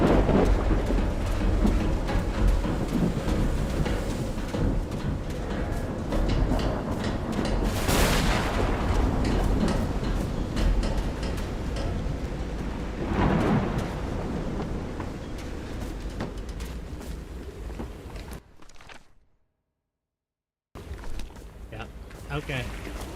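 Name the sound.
thunderstorm with thunder and rain in a video game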